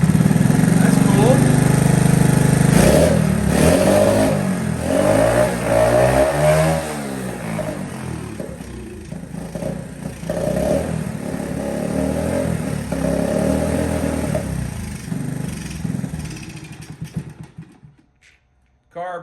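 A 1982 Honda ATC110 three-wheeler with a dirty carburetor runs loud and close, its small engine revving up and down unevenly before dying away near the end, with voices talking over it.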